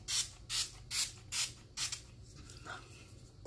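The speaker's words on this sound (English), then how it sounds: "But it is a good setting spray." Makeup setting spray misted from a pump bottle: five quick hissing spritzes in a steady rhythm, then a couple of softer clicks as it finishes.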